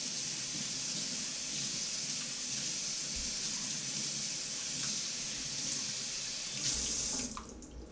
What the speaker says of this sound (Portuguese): Vou dar um pouquinho de água fria aqui.